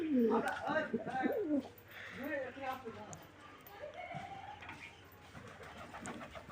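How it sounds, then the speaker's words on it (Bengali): Pigeons feeding in a flock, with bird calls and soft coos rising and falling throughout over a low steady background, while a person talks over them for much of the time. "এখন আরও পায়রাগুলো আসছে খেতে"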